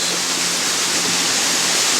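A small stream feeds into a creek on a forested hike near Sigriswil and Oberhof above Lake Thun, giving a steady, close, even rush of flowing water with no talk.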